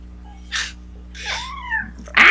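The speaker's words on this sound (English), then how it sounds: "I heard a meow." A cat meows indoors, one clear rising-then-falling call in the middle with a short breathy sound before it and a louder noise at the end, fairly close in an otherwise quiet room.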